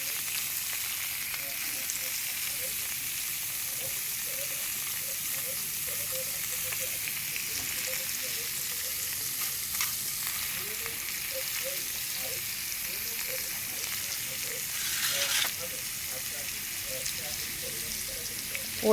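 Cut potatoes fry in a kadai (wok) with steady, moderate sizzling and crackle from start to finish, along with occasional faint stirring sounds.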